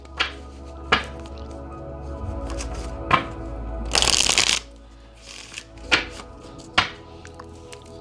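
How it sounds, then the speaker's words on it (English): Tarot cards being shuffled by hand in a quiet room, with several sharp riffles and taps and one longer, louder shuffle in the middle; no talking. "And I'm also going to pull cards on Judgment in reverse."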